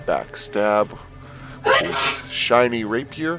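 A sneeze bursts out around two seconds in, a short noisy blast between stretches of speech during a tabletop role-playing game session; people keep talking before and after it.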